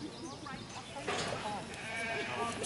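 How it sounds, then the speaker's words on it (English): Sheep bleating at a show, with a bleat or two standing out over steady crowd chatter and nearby voices in a busy barn setting. "Sheep."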